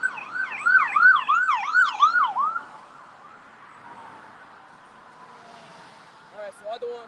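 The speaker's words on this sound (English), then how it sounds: "we got a damn ambulance" An ambulance siren wails in a loud rising-and-falling pattern as it passes on a street during outdoor street preaching, then fades away, with talk following near the end.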